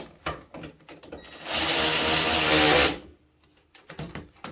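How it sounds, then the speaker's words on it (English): A small ratchet tightens self-locking seat nuts on a wrecked T-Rex under repair: light clatter and handling noises, then one loud, steady mechanical whirr lasting about a second and a half before it drops back to quieter tapping. "I'm using a little ratchet here."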